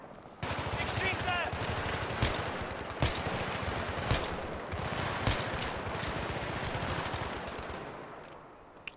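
Sustained machine-gun fire in the Battlefield 3 campaign, loud and continuous, with occasional heavier single shots punching through, tailing off near the end; voices can be heard faintly beneath the shooting.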